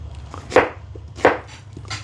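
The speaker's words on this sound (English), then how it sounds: "I hear chopping" A knife chops food on a kitchen board in three sharp, evenly spaced strokes about two-thirds of a second apart, close and crisp against a quiet low hum.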